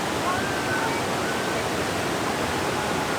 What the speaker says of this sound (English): That right there is the top of the waterfall.